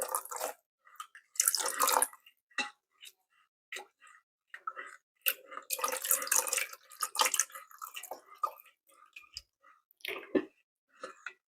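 Wet, irregular splashes and squelchy stirring sounds as liquid is stirred and poured into an Instant Pot Duo Mini for thick gravy, in short bursts, with liquid sloshing and trickling between pauses.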